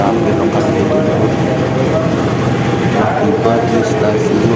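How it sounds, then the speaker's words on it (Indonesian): Jatiluhur local passenger train rumbling steadily at a station stop on the Jakarta–Karawang line, a loud continuous low drone with passenger voices and announcements mixed in throughout. "ini dia kereta api lokal Jatiluhur"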